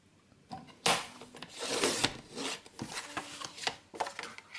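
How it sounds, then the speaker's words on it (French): A paper trimmer blade slices cardstock for a scrapbooking card, giving close, scraping swipes and sharp thumps in uneven bursts, with no talk. "Je vais placer ma lame et dans l'autre sens nous allons couper à 17"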